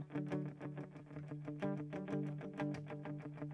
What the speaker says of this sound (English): I use it for like more of like a choppier type of delay.